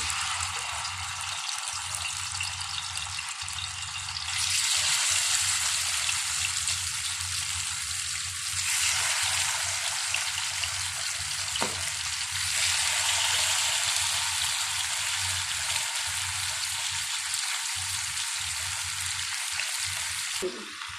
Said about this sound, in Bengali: এবার বেগুন ভাজি বানাই। এবার তেল গরম হয়ে গেছে।